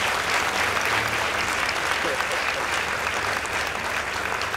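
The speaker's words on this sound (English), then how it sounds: "Please give them a round of applause" A school debate audience claps for competing teams, sustained dense applause from a full room at constant loudness, with no talking.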